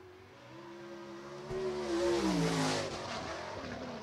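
A sprint car takes its qualifying time at a dirt-track heat race in an All Star Circuit of Champions event, its engine roaring and climbing in pitch as it accelerates past, loud and sustained, then holding a steady high drone.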